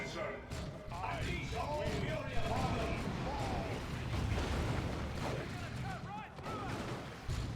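Battle sounds from the real-time strategy game Dawn of War 2 as a flame grenade lands amid gunfire, a dense continuous rumble of blasts and shots beneath steady commentary.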